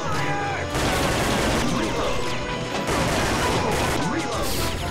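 Rapid machine gun fire from enemies in the arcade light-gun shooter Time Crisis, played on a PlayStation emulator, forms a dense, loud, continuous barrage lasting throughout, with a voice briefly speaking over it.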